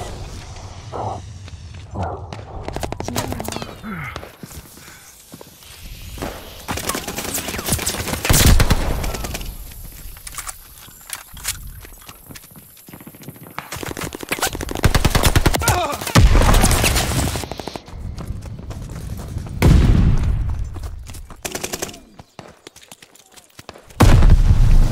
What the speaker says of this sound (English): Hard point is under fire.